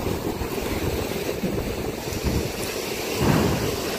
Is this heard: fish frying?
no